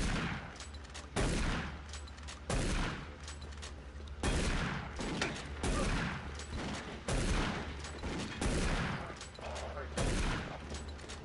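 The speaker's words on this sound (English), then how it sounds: "let my voice and the sounds of gunfire lull you to sleep." Gunfire from the video game Doom 3 played on veteran difficulty, loud repeated bursts of shots in clusters every second or so across the whole stretch, with a voice briefly underneath.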